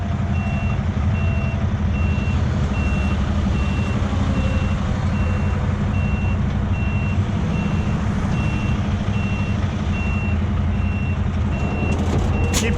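A semi truck creeps in reverse while trying to turn around on a road, its backup alarm beeping in a steady, evenly spaced rhythm over a continuous low diesel engine rumble, loud and close.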